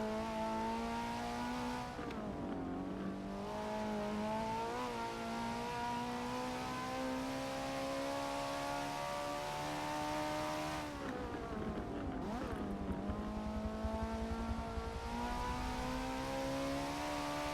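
A 1992 Honda NSR engine in a Forza racing game at Road Atlanta, droning steadily at high revs, with two dips where it drops and climbs back through gear changes. It stays fairly quiet throughout.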